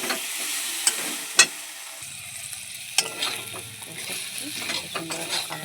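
Fried eggplant tossed into spice masala in a pan for a spicy fish curry sizzles steadily up close, with a few sharp spatula clinks against the pan and a rougher stirring scrape in the second half.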